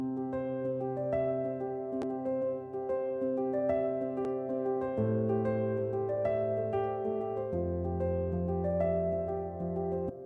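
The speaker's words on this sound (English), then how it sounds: "So if we listen to this piano example right here," A softly played piano part in Logic Pro moves through a sequence of steady, sustained chords with gentle melodic notes on top, heard alone and fairly quiet.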